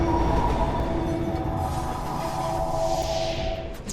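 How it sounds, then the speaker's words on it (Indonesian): A subway train rushes past underground with a loud, steady rumble and a faint metallic wheel whine, close and continuous with no voices. "mendengar suara bising ketika ada kereta yang lewat"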